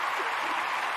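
A small group claps briefly and fairly close, a short continuous patter of applause with no voices over it.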